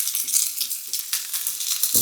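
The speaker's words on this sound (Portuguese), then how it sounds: "Podemos adicionar primeiro a cenoura, que é mais dura, e deixar fritando." Carrots sizzling in butter in a pan for Japanese batayaki, a steady close hiss of frying with a few soft stirring knocks and a louder clatter at the end.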